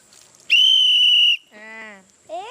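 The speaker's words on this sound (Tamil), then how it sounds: "இந்த ஊதிப்பர்" A whistle blown during a children's bus game gives one loud, shrill, steady blast of about a second, followed by softer, lower wavering tones.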